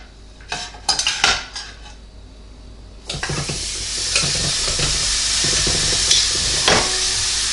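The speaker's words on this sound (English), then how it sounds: "I'm going to put the steak in there." A T-bone steak dropped into a very hot pot: a few metal clanks and utensil knocks, then a loud, sustained searing sizzle swelling up and holding steady to the end.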